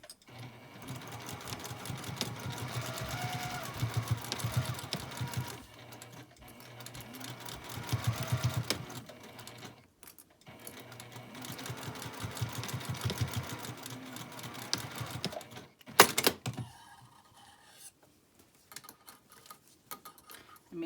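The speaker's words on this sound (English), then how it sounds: "And now I'm just going to sew down, and I'm going to backstitch over the elastic and the pleats." Polyester thread runs through a sewing machine stitching a pleated fabric face mask, backstitching over elastic, in several loud bursts of rapid stitching separated by short pauses and clicks.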